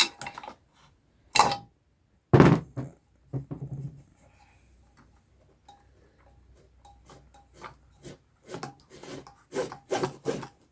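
A screwdriver scrapes around a small notch on a quad, giving several sharp rasping strokes and scattered ticks, close and intermittent with quiet gaps between.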